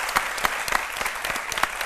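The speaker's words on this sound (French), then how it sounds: "des applaudissements bien fournis de la part de mon chaleureux public" Steady, brisk applause from a warm studio audience on an Ivorian midday TV show, dense clapping with sharp individual claps standing out, heard alone.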